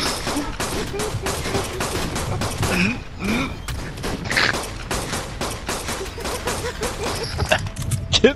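Rapid gunfire in the game ARK, dense crackling volleys of shots nearly continuous throughout, loud and close, with occasional voices and shouts mixed in.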